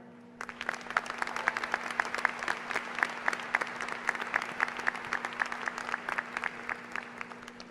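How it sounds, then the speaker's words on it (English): Applause at a Glendale Community College commencement ceremony, with individual claps distinctly audible in a moderately sized, fairly quiet crowd, keeping a busy, uneven patter over a faint steady hum. "Please join me in a round of applause for them."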